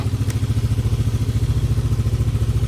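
A Yamaha Aerox scooter engine idles steadily to warm up, a close, loud, even rhythmic putter with a fast regular pulse throughout.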